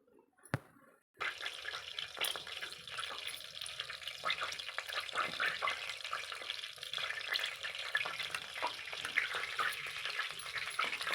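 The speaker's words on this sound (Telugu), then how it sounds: "ఫస్ట్ జింజర్ గార్లిక్ పేస్ట్ వేసుకుని ఆయిల్ కాగిన తర్వాత దీన్ని కొంచెం రోజ్ కలర్లోకి వచ్చే వరకు ఫ్రై చేసుకుని" Ginger garlic paste hits hot oil in a pressure cooker on a home stove, opening with a sharp clatter and then settling into a continuous close sizzle with scraping stirs and faint watery crackle.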